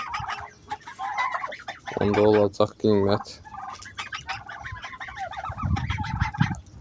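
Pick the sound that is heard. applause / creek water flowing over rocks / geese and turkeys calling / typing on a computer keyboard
geese and turkeys calling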